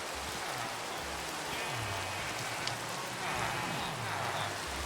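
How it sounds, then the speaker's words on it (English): Steady rain in a survival video game, a continuous dense hiss of falling drops heard throughout at low level, with someone talking over it in short phrases. "let's sleep to get the rain away"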